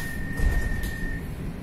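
A steady low rumble of a PESA Foxtrot tram rolling along in Kyiv, with a constant high whine running underneath.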